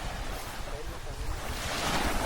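Sea waves washing onto a beach on Camotes Island, a steady broadband surf roar that builds slightly, mixed with wind buffeting the microphone.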